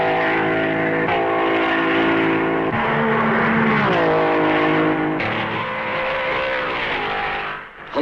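Vintage 1955 Grand Prix race cars roar past on the Spa circuit, a loud sustained engine drone with shifting pitch as several cars sweep by in succession, fading slightly at the end.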